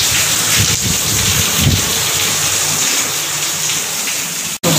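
Heavy rain pours down along Shikarpur Road in Sindh, a loud, dense and continuous hiss of drops beating on surfaces close by, with no voices.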